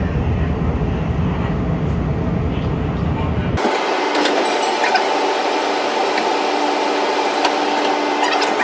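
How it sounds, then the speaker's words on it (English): A CTA Orange Line train runs toward downtown Chicago. A steady low rumble of the car in motion switches abruptly to a brighter, hissing wheel-and-track noise partway through, and an onboard voice announcement is heard over it. "This is an orange line train to downtown."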